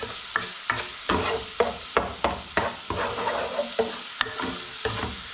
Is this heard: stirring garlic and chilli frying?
yes